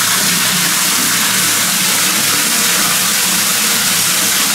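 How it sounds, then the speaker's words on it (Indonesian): Strong, steady rush of water from a bathroom tap fed by a new booster pump, loud and continuous with a low mechanical hum underneath, no talking. "Aliran airnya kencang banget"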